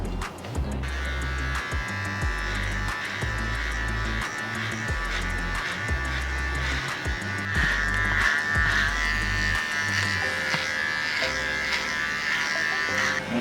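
A Xiaomi electric hair clipper buzzes close by while trimming hair, its steady motor hum pulsing in repeated on-off bursts as it moves against the hair, with a faint talking voice at times.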